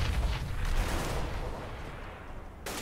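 A grenade goes off in Counter-Strike on the de_cache map, a heavy low boom that rolls and fades over a few seconds before another sound cuts in at the end.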